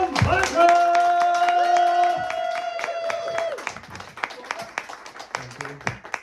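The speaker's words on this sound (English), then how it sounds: "I'd like everybody to start clapping" Open mic comedy crowd clapping for the next act, starting under a loud drawn-out cheer and voices, then continuing as quicker, lighter claps.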